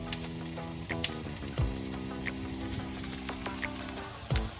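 Brussels sprouts, carrots and other vegetables sizzle and crackle in a hot frying pan, a steady hiss with scattered pops and a few utensil scrapes, heard close and alone.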